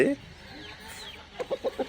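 A rooster gives a quick series of four short clucks near the end, fairly close, after a brief quiet stretch.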